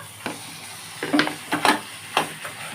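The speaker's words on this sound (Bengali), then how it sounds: "এবার আমি কচু শাকগুলো এর মধ্যে ঢেলে দিচ্ছি সবগুলো কারণ কচু শাক তো নাড়তে হবে" Boiled taro greens tipped into hot spice mix in a pan with prawns and bori, sizzling softly while several distinct scraping stirs come at irregular intervals, close and moderately loud.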